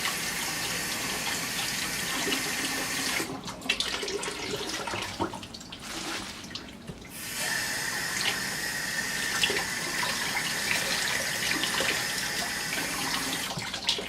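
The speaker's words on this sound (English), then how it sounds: "So just give it a quick rinse." A Berkey water filter element being rinsed under a running tap, making a steady, close rush of water that splashes and gushes, with a brief dip in flow partway through.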